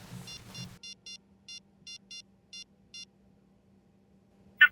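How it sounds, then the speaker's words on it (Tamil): Phone dialing tones as a number is keyed in: eight short, evenly spaced beeps under a low steady hum, preceded by a brief muffled noise and followed by a single sharper high chirp at the end. "சச்சின், இந்த நம்பருக்கு கால் பண்ணு."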